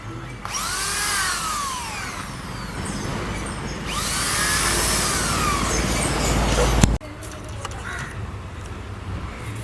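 A power drill or screwdriver runs steadily while screws are driven to fit a base, with a whining motor pitch rising and falling over two long runs before cutting off sharply, then a quieter, busier background remains.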